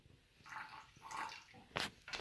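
Cabbage juice pours from a container into a smaller one, giving brief splashy trickles and a couple of sharper liquid bursts near the end, close and fairly quiet.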